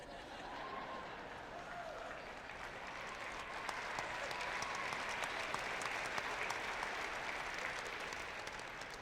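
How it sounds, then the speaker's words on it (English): Applause from the audience at a Bangor High School graduation ceremony, 2018, rolls on steadily for several seconds as a dense, even wash of many hands at a moderate distance, with a faint chuckle or two in the crowd. "Now, the fact that they just applauded should tell you, okay?"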